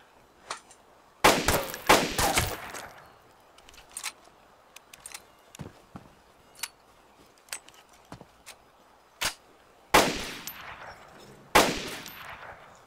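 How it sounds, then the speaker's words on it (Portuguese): Gunfire in the survival video game DayZ: several loud bursts of shots in two clusters, separated by a stretch of sparse, fainter single cracks and clicks, with no talking. "eu vou dar uns tiros aqui"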